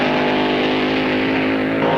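A 1966-era drag racing car engine roars loudly and continuously with a dense, harmonic snarl that holds steady throughout.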